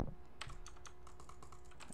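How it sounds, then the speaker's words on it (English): Rapid computer keyboard clicking, a steady stream of light taps close by with no voices. "I'm showing my clicks and my keyboard sounds."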